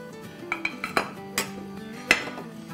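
Ginger, chilli, chopped tomato and sliced onion sauté in a pan for palak paneer, with a soft frying bed under a series of sharp metallic clinks and taps of a utensil against the pan, no voices.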